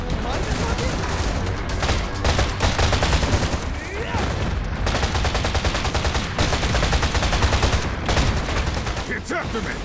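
Rapid bursts of gunfire while shooting an enemy in Freedom Wars Remastered, dense rattling volleys repeating across the whole stretch, loud and close, with game effects and voices mixed underneath.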